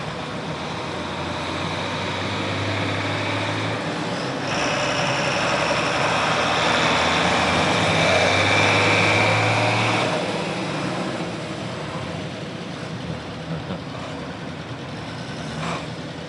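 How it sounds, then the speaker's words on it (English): Several John Deere tractors rumble past in a county fair parade, a steady engine drone swelling as they approach and fading slowly as they move away outdoors. "And we got a whole bunch of John Deeres going by now."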